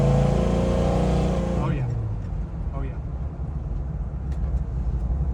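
A 1970 Dodge Challenger R/T Convertible engine roars at high revs, then the pitch drops sharply as the car downshifts and settles into a rougher, lower rumble, heard close by.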